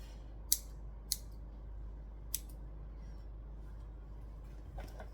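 Scissors snipping through dress fabric, a few short, crisp cuts spaced apart over a quiet room hum, with one softer snip near the end.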